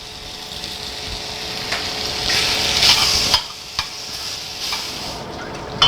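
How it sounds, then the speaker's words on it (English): Bacon frying in a hot pan, a steady loud sizzle with occasional stirring clunks and scrapes, close up and without talk. "we're gonna start off by adding some bacon to a hot pan, and I'm gonna fry up this bacon."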